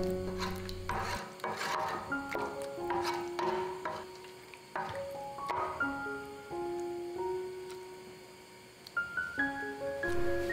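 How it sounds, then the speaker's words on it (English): A spoon stirring a chicken and rice mixture in a cooking pot, with repeated scraping and rubbing strokes against the pot in an uneven rhythm, close and fairly quiet, with a few light clinks. "Now mix around the mixture thoroughly"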